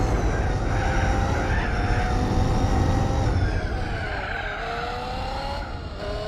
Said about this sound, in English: the engine on this car sounds horrible